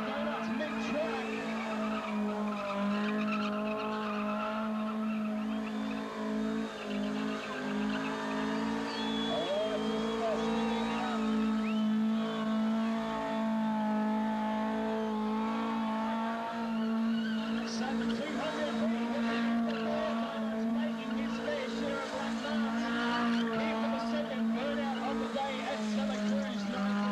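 A 2-litre car doing burnout donuts at a 1998 club burnout event, engine droning and tires squealing continuously for the whole stretch, loud and sustained, with a commentator talking over it.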